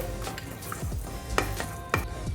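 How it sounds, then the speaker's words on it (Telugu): Coriander seeds dry-frying in a pan for peanut chutney powder, a steady soft sizzle with a few sharp scraping stirs of a spatula, close and without talk. "ఇప్పుడు ఇందులోకి వన్ టేబుల్ స్పూన్ ధనియాలు వేసుకొని ఫ్రై చేసుకోవాలి"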